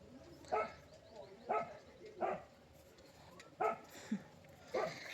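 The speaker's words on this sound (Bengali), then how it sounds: "দেখো কুকুরটা কন্টিনিউয়াসলি ঘেউ ঘেউ করছে" A dog barks repeatedly at a distance, with about half a dozen single woofs spaced roughly a second apart against quiet background noise.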